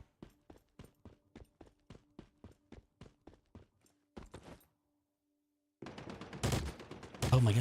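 Rapid bursts of gunfire in the video game Once Human, about a dozen evenly spaced shots followed by a louder cluster, a brief pause, then heavier, denser firing and impacts.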